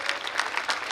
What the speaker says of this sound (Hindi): एक बार अब अपनी जगह पर खड़े होकर जोरदार तालियां बजाएंगे।